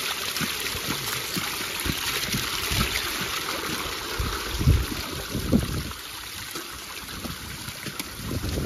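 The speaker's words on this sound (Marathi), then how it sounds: "बघू शकता कसं पाणी शिड्यांवर येतोय." Rainwater runs down stone steps on a hill fort trail after heavy rain, a steady broad rushing and trickling wash heard close and continuous, with a few louder splashes partway through and no voices.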